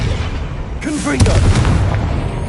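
Confringo blasting spell in Hogwarts Legacy: after a brief spoken incantation, a deep explosive boom with crackling bursts that rumbles on for over a second.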